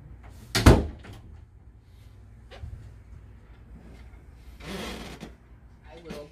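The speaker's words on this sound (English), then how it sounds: "And I'll close your door for privacy." A room door in a care setting is shut with a sharp, close thud, and softer shuffles and a muffled bump follow; a voice speaks faintly in the background.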